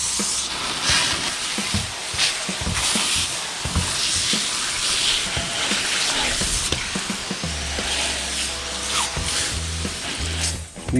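Running tap water hisses and splashes over redfish fillets being rinsed, a continuous close spray with handling clatter and shifting bursts.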